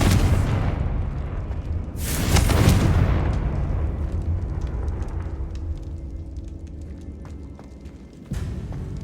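Confringo blasting spell exploding in the wizarding game Hogwarts Legacy: a sudden loud burst flares up and decays into a long rumbling, crackling tail, then a sharp thump near the end, with no talk over it.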